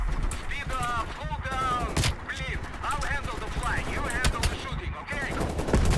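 Rapid gunfire from the Cold War campaign of Call of Duty, repeated bursts and single shots crackling close and loud, with a voice talking over the shooting.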